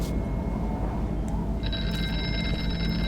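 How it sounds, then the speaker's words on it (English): A telephone rings inside a virtual-reality horror game, a steady electronic bell tone that sounds continuously over a low ambient rumble, starting faint and growing more insistent partway through, with no one talking. "Where's that phone ringing?"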